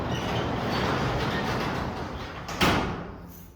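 A door swings shut with a single short thud inside a converted freight-terminal distillery, heard over steady room and air-conditioning hum.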